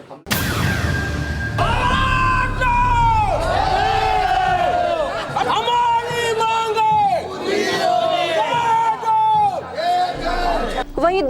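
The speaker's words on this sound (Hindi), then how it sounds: "मरीजों व लोगों की भीड़ में लग रहे नारों व कोलाहल के बीच" A crowd of patients and other people outside a chief medical superintendent's residence in Mirzapur, shouting slogans in loud, rhythmic call-and-response bursts over a continuous uproar, close and sustained.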